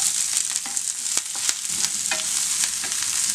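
Finely chopped small onions, five of them, sizzle in a hot pan while a spatula stirs them, with a dense crackling hiss and several scraping and tapping strokes up close.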